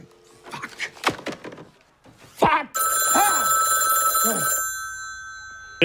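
An old-fashioned telephone bell rings loud and sustained for a couple of seconds in a scene from the movie Stage Fright, following scattered thumps and knocks and a brief vocal exclamation.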